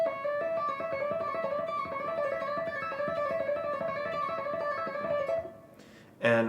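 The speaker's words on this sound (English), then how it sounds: "an exercise that I use to practice the index finger movement sounds like this" Electric guitar legato exercise focused on index-finger movement, a steady run of clear, evenly spaced notes played close and alone for about five seconds, ending with a brief louder burst.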